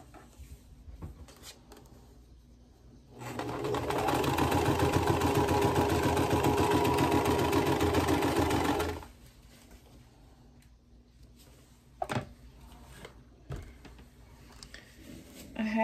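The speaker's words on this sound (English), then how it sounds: "So we're just sewing these together." A sewing machine stitching yellow quilt block pieces together runs in one loud, steady burst of rapid mechanical whirring for about six seconds, framed by quieter handling clicks and rustles.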